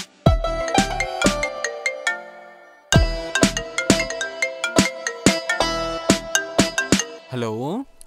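A melodic phone ringtone plays loudly and repeatedly in a domestic scene from a Telugu horror short film, a chiming tune of plucked notes that pauses briefly and resumes before a voice answers at the end.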